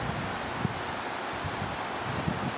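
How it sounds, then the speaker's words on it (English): A steady wind gusts outdoors on a windy day, a broad continuous rushing hiss with a few soft buffeting thumps against the microphone, and no voices. "Windy day."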